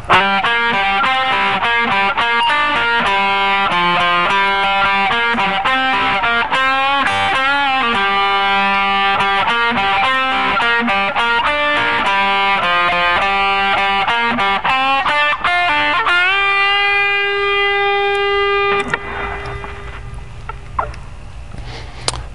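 A distorted electric guitar plays a lead lick from the third solo of a song, run through effects, with dense fast notes that end on a long sustained bend ringing out alone.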